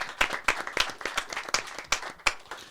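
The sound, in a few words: audience applause in a studio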